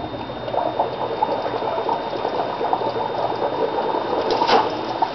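Steady bubbling and gurgling of air blown by mouth into a water-saturated tank, continuous and close, with a brief louder burst near the end.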